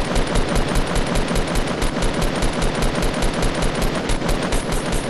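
Rapid automatic gunfire in a video game rattles out in a long, unbroken burst of loud, closely spaced shots lasting the whole stretch.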